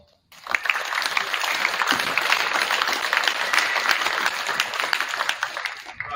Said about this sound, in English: can we all give your parents a round of applause?